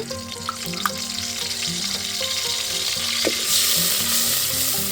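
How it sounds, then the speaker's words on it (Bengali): Onion and garlic sizzle loudly in hot oil in a close pan, a dense continuous frying hiss with a few spoon knocks and scrapes as they are stirred. "তেলের মধ্যেই পেঁয়াজ আর রসুনটা একটু বেশি করে নিব"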